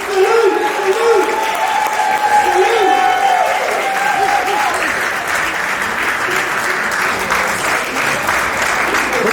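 Loud, continuous applause from an audience at a retirement celebration, with voices calling out and talking over the clapping throughout.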